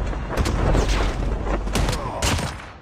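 Call of Duty Mobile gunfire booms in a dense, loud burst of overlapping shots and explosions lasting a few seconds, with no voices.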